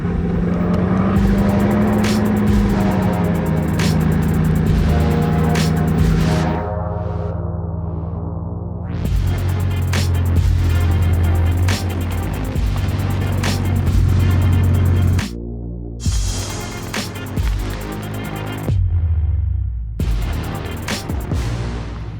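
A Bugatti Chiron Sport hypercar with its 8-litre W16 quad-turbo engine is heard loudly and close throughout, its engine note rising and falling in pitch, with a few abrupt breaks between passages.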